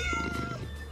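A cat meows in the Minecraft video game, a single drawn-out in-game meow heard clearly and fairly close over a steady background hum.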